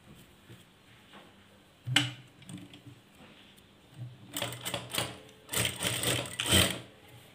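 A sewing machine stitches a strip piece onto a blouse, its needle running in short rapid bursts that rise louder toward the end, with mechanical clicks and faint thumps between runs, close by with no talk.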